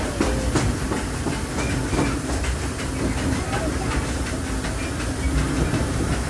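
The Disneyland Railroad train clatters along its rails, a steady rumble with rapid clickety-clack beats and faint hissing, heard from on board while a voice talks over it.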